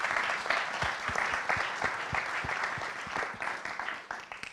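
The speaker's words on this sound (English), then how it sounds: "I want to applaud all the women here in this room" Sustained applause from a room of attendees at the 2023 Oscars ceremony, dense steady clapping with a few louder individual claps, tapering slightly toward the end.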